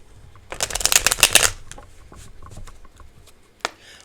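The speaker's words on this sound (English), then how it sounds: "shuffle again" Tarot cards shuffled by hand, a loud close riffle of rapid flutter lasting about a second, followed by softer card handling and a single sharp tap near the end.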